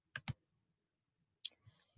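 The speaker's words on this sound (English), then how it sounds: "let's proceed by clicking the restart button" Two quick computer mouse clicks close together on a restart button, crisp and near in a quiet room, followed after a pause by a few softer clicks and faint taps.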